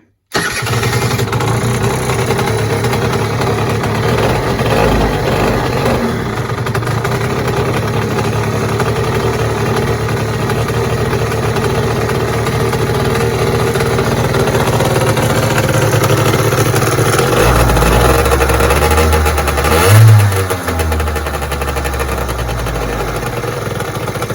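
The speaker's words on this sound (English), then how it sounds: "So yeah, it's going to be a cold start. See if this new choke has made any difference." A Peugeot Speedfight 4 scooter with a newly fitted auto choke cold-starts and then idles steadily, its close, loud engine drone running without a break and swelling briefly near the end.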